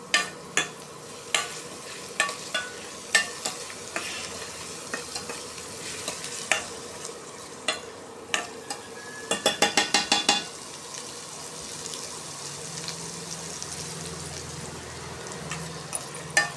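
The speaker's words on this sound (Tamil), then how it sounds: "ஸ்டவ்வில் வதங்கி வரணும் வெங்காயத்தை வந்து நல்லா வதக்கி செய்யுங்க" Onions sizzle steadily in a pan while a utensil scrapes and clatters against it, with a quick burst of stirring midway.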